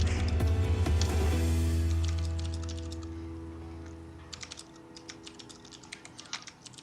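Computer keyboard typing at a tabletop Dungeons & Dragons session: a loud low hum fades out over the first few seconds, then scattered key clicks give way to a steadier run of close, crisp taps.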